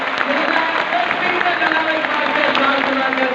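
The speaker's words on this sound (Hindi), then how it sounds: "जोरदार तालियां उनको सम्मान करिए" An audience at a college Allama Iqbal poetry competition gives dense, steady applause for a few seconds, loud and close, with crowd noise and voices mixed in.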